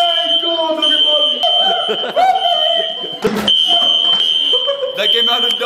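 A fire alarm sounding during a drill, a continuous piercing electronic tone over people talking and laughing close by.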